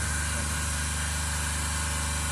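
A DC shunt motor drives an induction generator on a lab test bench, giving off a steady, close electrical hum with a low mechanical drone and a faint vibration running evenly throughout.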